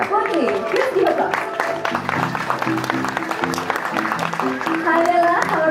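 An audience at an elephant show with Sumatran elephants at Bali Safari & Marine Park claps and cheers loudly and continuously, while a voice and music carry on over the crowd.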